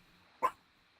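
A Chihuahua gives a single short, sharp bark indoors, fairly close, against a quiet background.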